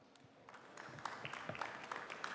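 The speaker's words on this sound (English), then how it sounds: "So let us welcome Better Team with a round of applause." Applause from an audience at a startup demo day, faint and steady with dense overlapping claps that build slightly over a couple of seconds, with no talking.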